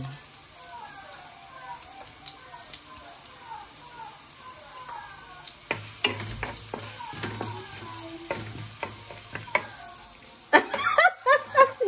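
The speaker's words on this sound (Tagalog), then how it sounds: "Pero ako mas gusto ko na ginigisa muna yung bawang, sibuyas." Garlic and onion sauté in a pan before coconut milk goes in for ginataang galunggong with malunggay, a steady crackling sizzle with scattered utensil clicks and stirring scrapes. People talk nearby over the frying, and louder clattering comes near the end.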